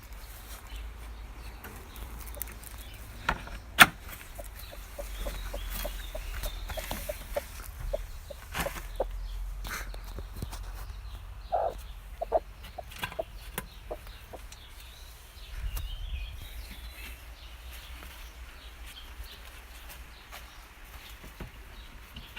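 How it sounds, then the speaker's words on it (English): A broody gold-laced Orpington hen in a chicken tractor gives soft, scattered clucks over a low outdoor hum. The calls are faint and irregular and spread across the whole stretch. "Here's Titania, the gold-laced Orpington. She's in the chicken tractor because she's broody at the moment."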